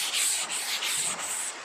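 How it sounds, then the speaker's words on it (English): Close, raspy sanding strokes rubbing back and forth over painted parts of a classic Toyota TA22 Celica in a steady rhythm, about five passes in quick succession. "I need to get onto sanding this."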